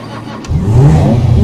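Banshee sports car in GTA5 revving its engine, a sudden loud throaty roar that kicks in after a quiet moment and holds steady close up.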